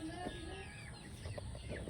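Chickens cluck near a garden of chillies and greens, with a rooster among them, producing faint scattered clucks and short calls over a quiet background.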